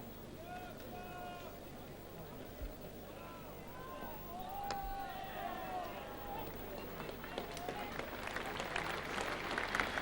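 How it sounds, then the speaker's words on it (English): A distant cricket crowd at Lord's applauds during the 1981 England v Australia Test, the clapping faint at first and swelling toward the end, with birds chirping and a commentator's voice over it. "Applause for the 50 partnership between Allan Border and Kim Hughes."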